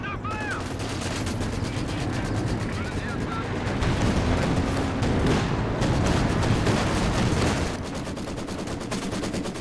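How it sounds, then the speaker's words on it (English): Dense battle audio from the video game Company of Heroes 2, with Maxim machine guns firing rapid bursts alongside other gunfire and explosions, moderately loud and steady, with a voice talking over it. "MG Wars, Maxim v Maxim."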